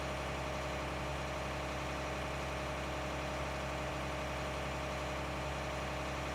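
A tractor engine idles steadily in Farming Simulator 19, a constant low droning hum with even vibration and no change in pitch, heard alone without talk.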